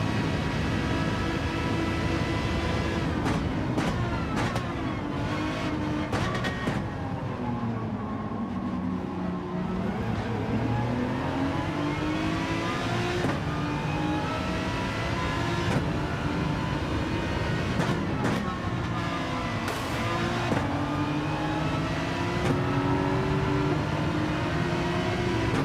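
Race cars speeding past in Gran Turismo 7 lobby racing, continuous loud engine roar with rising and falling pitch sweeps as several cars pass, layered with repeated gear shifts over about twenty-five seconds.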